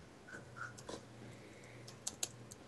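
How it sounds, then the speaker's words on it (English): Fast typing on a computer keyboard produces scattered, faint key clicks with a few sharper taps near the end, set against a quiet background hum. "Do your StarCraft speed typing."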